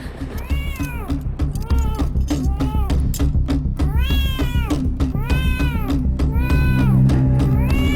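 A cat meows repeatedly in a drawn-out, wavering cry, loud and close, with a sustained musical or background bed underneath throughout.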